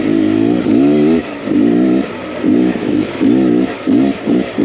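A 2023 Beta X Trainer 300 two-stroke dirt bike rides a trail, its close engine revving in quick repeated bursts that rise and drop rhythmically as the throttle opens and closes.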